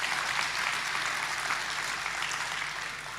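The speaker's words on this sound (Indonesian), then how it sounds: "Coba beri tepuk tangan dong sama Tuhan Yesus." Church congregation applauding for Jesus during a sermon, a soft, distant, steady patter of many hands clapping with little voice on top.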